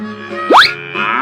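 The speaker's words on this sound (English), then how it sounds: "Cow." A cow moos in a single close, loud call, overlaid by a quick rising cartoon-like swoop in the middle, with no talk.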